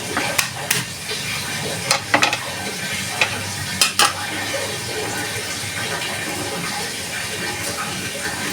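Onion and garlic frying in a pan, a steady close sizzle broken by several sharp clinks and scrapes of a utensil stirring, with faint background noise and no clear talking.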